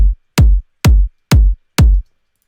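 Layered sampled kick drums for a house track hit together in five punchy, deep thumps at an even pulse, each short with a crisp attack and a booming low end. The hits are loud and dry, separated by silence.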